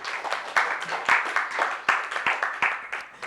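Audience applause at a round-table conference on climate risks in Mayotte, moderate, with distinct sharp claps standing out from a steady patter of many hands.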